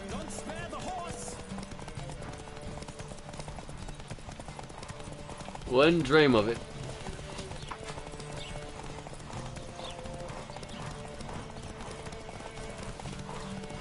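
A horse galloping during a Witcher video game race, steady fast hoofbeats running throughout, with a brief spoken line and a short whinny-like burst midway.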